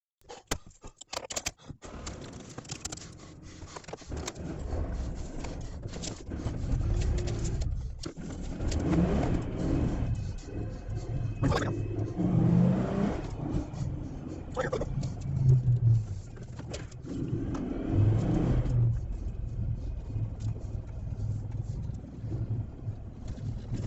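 A car drives around on a road, its engine a steady mid-level drone that rises and falls as it accelerates, with faint rattles and clicks inside the cabin and no talk.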